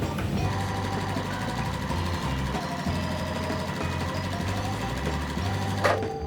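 A sewing machine stitching fabric strips for a Halloween cat and spider web quilt, a steady rapid mechanical whir and hum running continuously, close and even, ending with a brief clatter.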